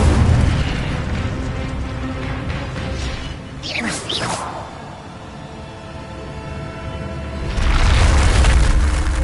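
The Incendio fire spell in Hogwarts Legacy goes off as a loud whooshing burst, with a sweeping rush of flame over dense rumbling game sound and a second fiery swell near the end.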